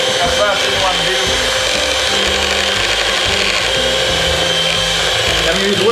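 An electric stand mixer fitted with a whisk attachment whips a warm egg mixture for tiramisu, a loud steady whirring drone with a rattling, scraping texture that runs unbroken from start to end.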